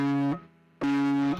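Two sustained distorted electric guitar notes, loud and gritty with rich harmonics, separated by a short quiet gap.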